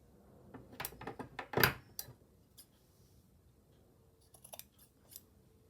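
Scissors snip through fabric for a slow-stitched purple pouch, giving a few close, crisp cuts clustered early, then quiet, with a couple of faint clicks and small handling sounds near the end.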